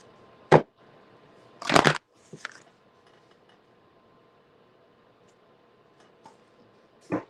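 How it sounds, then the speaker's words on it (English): Tarot cards are given a quick shuffle in a few short riffling bursts, close and crisp, with soft taps between them in an otherwise quiet room. "Quick shuffle."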